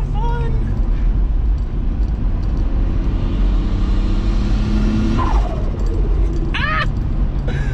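A turbocharged VR6 wagon pulls hard at full throttle, a steady loud engine drone building under interior cabin noise, with brief voices breaking in near the end.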